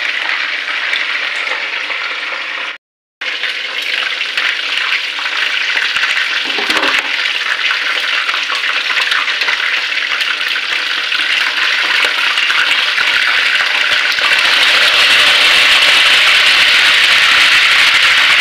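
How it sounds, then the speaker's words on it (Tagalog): Loud, steady sizzling and crackling of chicken frying in hot oil, close up, briefly cutting out once, then growing brighter and more intense toward the end. "para hindi ka matalsikan ng mantika pag nagpiprito ka ng manok"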